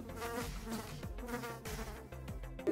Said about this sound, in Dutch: want er komt echt heel een vlieg gewoon om me heen